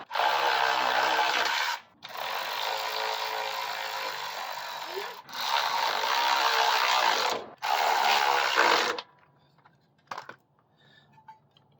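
Power tool snugging the engine mounting bolts back down on a CT100U motorcycle, three long, loud, close whirring runs of a few seconds each with short gaps, ending in faint clicks and handling noises.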